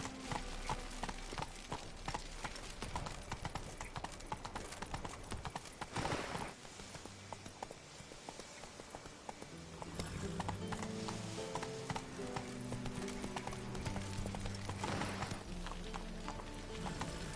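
A horse clip-clops at a gallop in the video game Witcher 3, a quick, fairly faint hoofbeat rhythm running throughout under game music.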